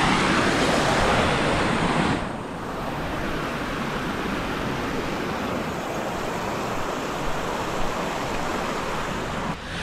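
Water released over rocks at a small village waterfall in May rushes and splashes steadily, a broad hiss that is louder for the first two seconds and then settles into a continuous flow.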